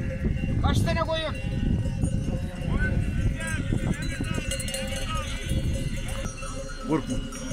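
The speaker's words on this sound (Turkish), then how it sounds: "Kekeçleri takmışlar, çanları." Bells hung on a flock of sheep in the Emirdağ hills clank and jingle continuously as the animals move, mixed with scattered bleats and hoof noise while people talk close by.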